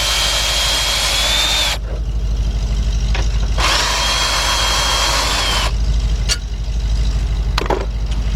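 A cordless impact gun removes bolts on a Lincoln LS during a heater control valve replacement, giving three bursts of loud, buzzing rattling hammering, separated by brief pauses and a few clanks.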